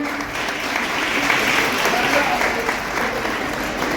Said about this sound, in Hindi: मुख्य अतिथि को जोरदार तालियां